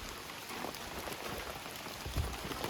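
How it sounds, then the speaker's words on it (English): Steady rain patters on a surface nearby, a dense continuous hiss of drops with a soft thump near the end. "Hey, it's raining."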